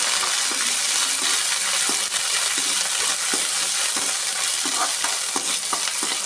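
Two to three sprigs of curry leaves deep frying in hot oil, a steady close sizzle with soft scraping stirs recurring every second or so, no voices.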